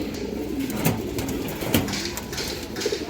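A large red female Sapchila pigeon coos softly close by in a few low, throaty calls over a steady background hum.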